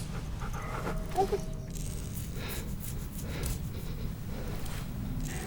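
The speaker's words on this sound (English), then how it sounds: "She's my dog now." A dog pants in The Walking Dead: The Final Season video game, quick soft breaths under a quiet game ambience, with a small whimper-like sound early on.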